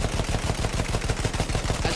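Rapid gunfire in the first-person shooter Battlefield 1, a dense, loud stream of overlapping shots with steady automatic rhythm throughout.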